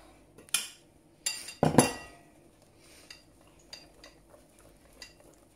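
Nesquik cake batter being stirred in a bowl, a few short scraping clinks of a utensil against the bowl in uneven strokes, close and moderately loud, with quieter taps between them and no talking.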